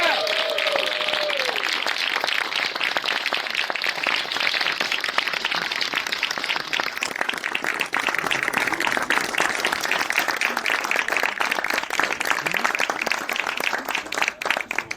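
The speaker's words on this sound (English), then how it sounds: "Big applause for Mohammed Qissi." Sustained applause and clapping from an audience at a live interview Q&A event, a dense, steady wash of many hands for the whole stretch, with a voice briefly heard at the start.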